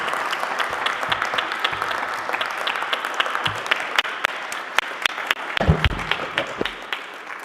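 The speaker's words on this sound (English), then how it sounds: "So let's have a round of applause for Shannon" A council meeting audience gives Shannon a round of applause, steady dense clapping across the room for several seconds, thinning toward the end with a few louder individual claps and a low thump near the close.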